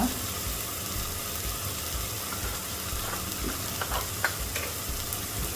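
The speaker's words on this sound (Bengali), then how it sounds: "এখন আমি মশলাটাকে ভালো করে কষিয়ে নিই।" Spices with ginger-garlic paste, turmeric, chili, coriander and cumin frying and being stirred in a pan for okra, a steady close sizzle with occasional soft scrapes.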